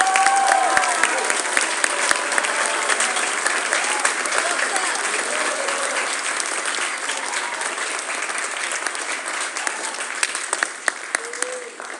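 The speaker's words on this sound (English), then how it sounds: "Let's give all of them a round of applause again as they go back to their spots." Long, steady applause from a school concert audience for vocal music department award winners, dense clapping filling the room with a few sharper claps standing out and voices murmuring underneath.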